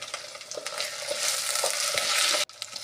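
Chopped potatoes frying with coriander paste for a fenugreek-leaf rice dish hiss in a loud, continuous close sizzle, with repeated stirring scrapes before a sudden brief cut-off near the end.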